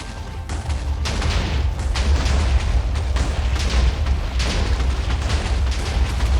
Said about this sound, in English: let's ignite that TNT. Yeah, yeah, give us the explosions.